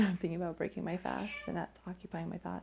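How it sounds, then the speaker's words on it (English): A pet cat meows repeatedly in short, close, needy cries that overlap a person speaking indoors. "Sorry, everyone. That's my cat."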